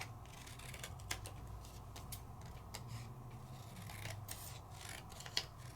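Scissors snipping cardstock freehand for a shaker card, a series of crisp, close cuts at an irregular pace, some quick doubles and a sharper snip near the end, over a quiet background with no talk.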